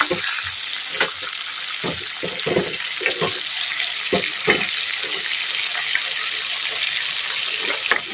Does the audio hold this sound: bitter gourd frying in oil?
yes